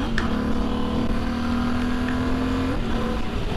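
Royal Enfield motorcycle engine running with a steady, loud, continuous drone that holds a constant low hum, heard close up alone without talk.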